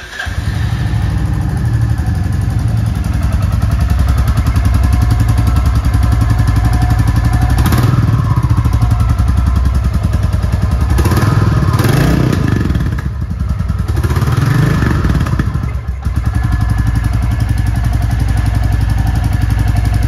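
A 2024 Royal Enfield Classic 350 Stealth Black motorcycle starts up and runs, its single-cylinder engine idling steadily and loud with occasional blips and clattery revs, close by with no talk.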